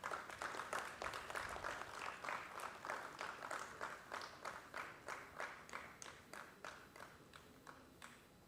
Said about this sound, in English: May we please have a round of applause?